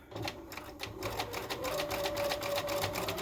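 A sewing machine stitches a scrub hat with a fast, continuous whirring chatter of the needle, faint and steady throughout with no voices.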